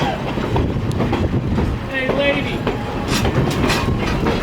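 Train cars rolling past on the Niles Canyon Railway with steam locomotives nearby, a continuous loud rumble with wheel clatter and a brief squeal, while someone speaks over it.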